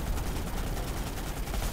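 Dense, continuous automatic gunfire in the online shooter PlanetSide 2, a steady wall of rapid shots with no pauses, moderately loud and without voices.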